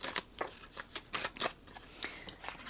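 Tarot cards shuffled and drawn by hand for a pick-a-card reading, a run of quick riffling bursts and crisp card snaps in steady rhythm, close and fairly soft, with no talking.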